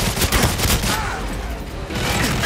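Enemy gunfire rattles through the Severnaya Bunker in GoldenEye 007 on Wii as two enemies open up. Loud, rapid bursts fire, thin out briefly, then pick up again near the end.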